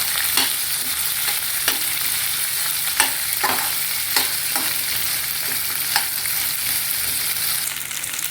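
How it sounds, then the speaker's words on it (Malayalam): Onions and curry leaves fry in a pan with a steady close sizzle, broken by scattered clicks and scrapes of a spoon stirring, with no one speaking. "കറിവേപ്പിൻ്റെ ഇല എല്ലാം കൂടി ഇട്ട് ഒന്ന് നന്നായിട്ട് ഇളക്കി"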